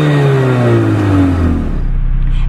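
A 2021 Mercedes GLA45 AMG with a turbocharged 2-liter four-cylinder and an 8-speed dual-clutch transmission revs hard and loud up close, its rising engine tone sweeping upward before settling into a steady, throaty drone.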